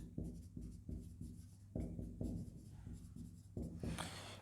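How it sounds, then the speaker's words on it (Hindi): Pen writing by hand during an accounting lesson, a run of short rhythmic scratching strokes up close with pauses between words, under no talk. "यहां लिखते हैं हम इन्वेस्टमेंट।"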